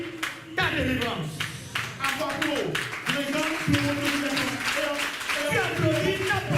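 A church congregation claps along during an energetic French-language sermon at a parish celebration, steady rhythmic hand claps running throughout beneath a loud preaching voice.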